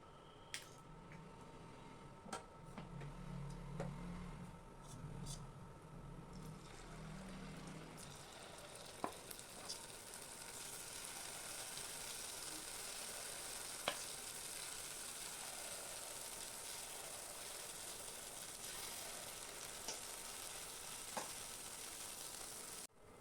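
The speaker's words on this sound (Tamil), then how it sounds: "இப்போ பணியார சட்டியை ஸ்டவ்வில் வச்சு எல்லா குழிலையும் கொஞ்சமாக எண்ணெய் விட்டு மாவை ஊற்றிக்கலாம்." Idli-batter kara paniyaram frying in a lightly oiled paniyaram pan on a stove gives a steady, soft sizzle throughout, with a few faint clicks and scrapes and no talking.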